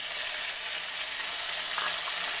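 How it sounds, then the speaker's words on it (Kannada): Masala of green chillies, ginger, garlic, coriander and mint frying in oil, a dense, even, close sizzle holding steady throughout with no talk. "ಇವಾಗ ಇದನ್ನು ಚೆನ್ನಾಗಿ ಫ್ರೈ ಮಾಡ್ಕೊಳ್ಳೋಣ"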